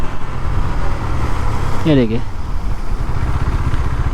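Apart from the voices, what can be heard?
KTM Duke 390 motorcycle during rear brake test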